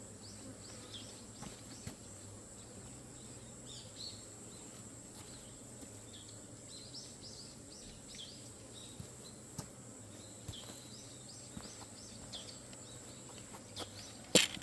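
Faint buzzing of Asian giant hornets around a trap at an apiary drifts in and out over a quiet background, several wings whining intermittently, with a few soft taps and a sharp knock at the end.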